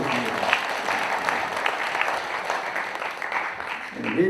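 Audience applause at a school education event in Naju, steady sustained clapping from a crowd across the whole stretch, moderately loud and fairly close, with no talk over it.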